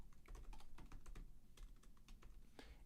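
Rapid, irregular keystrokes on a computer keyboard as details are entered into a form, close and fairly quiet, with short pauses between bursts and no voices.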